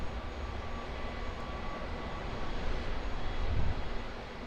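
A steady aircraft jet engine roars continuously at Auckland Airport as a plane lifts off, a broad whooshing drone with a faint whine, swelling slightly louder toward the end.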